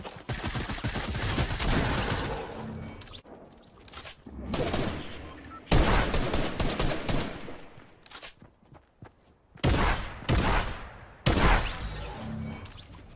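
Gunfire in a battle royale video game: bursts of rapid automatic fire and shots in loud clusters separated by short quiet gaps, with footsteps and a voice talking between them.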